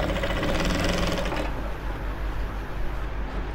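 Sewing machine stitching three fabric pieces together, a fast close rattling whir that runs for about a second and a half, then stops, leaving a quieter mechanical hum and light handling noises.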